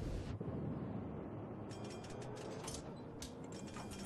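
Torpedo hits from a Derzki destroyer in World of Warships explode on enemy ships: a sustained heavy rumble with a sharp thud early, then crackling bursts of debris and mechanical rattles, loud and close, no talking.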